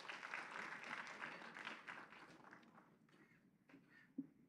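Applause at a book launch during a geography education conference, a steady patter of clapping from the audience for the first few seconds that thins to scattered claps, with a couple of louder close claps near the end.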